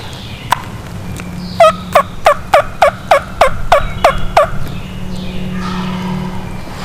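A wild turkey gobbles in a rapid series of about ten sharp, rattling calls, moderately close, over quiet outdoor background.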